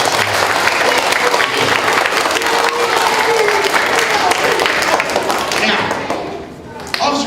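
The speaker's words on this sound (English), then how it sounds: "Please give yourselves a nice round of applause." Steady, loud applause from a room full of school students clapping for themselves at a school assembly, dense and continuous throughout, thinning slightly near the end.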